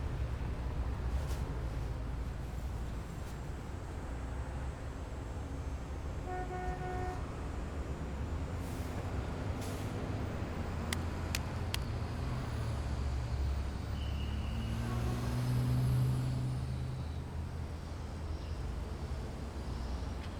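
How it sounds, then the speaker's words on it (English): City traffic and street life: a steady, distant wash of passing cars and trucks with a brief horn-like toot and the hiss of air brakes. No voices. "The sound of traffic and life in the city float in"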